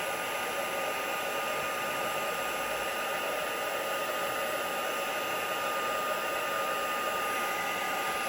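A heat embossing tool blows hot air over a stamped card, a steady close hiss and hum that runs unbroken throughout with no talking.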